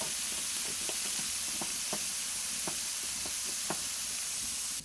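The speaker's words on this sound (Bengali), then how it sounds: "দেখো একটু সাইড করে নিয়েছি, দিয়ে দেবো একটু আদা বাটা" Ginger paste going into snail curry frying in oil, a loud continuous close sizzle with a steady series of light spatula taps and scrapes, no voices.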